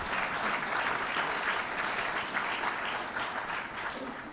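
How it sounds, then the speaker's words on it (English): Steady applause fills a hall as an audience claps continuously and evenly throughout, with no voices standing out. "you can give him a round of applause for that also."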